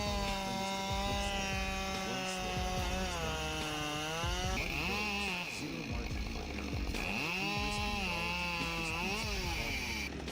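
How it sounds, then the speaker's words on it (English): A Husqvarna 572 XP chainsaw cutting a large tree roars at high revs throughout, its engine pitch dipping and rising as the chain bogs into the wood and frees up again, loud and close. "If you are looking for a reliable chainsaw to conquer the wild forests, then the 572 XP is the perfect choice."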